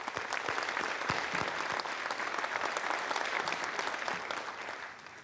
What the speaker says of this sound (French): Donc tout cela mérite une fois aussi des applaudissements.